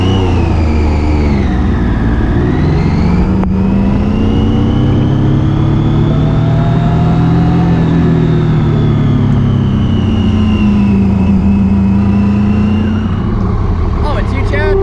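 A Triumph Daytona 675R race bike engine runs continuously while warming up, its pitch rising and sagging through several rev swells, loud and close, with a voice speaking over it at times.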